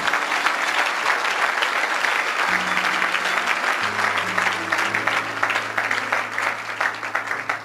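A church congregation applauds steadily and loudly throughout, dense continuous clapping with a low sustained organ or keyboard tone entering partway and holding underneath.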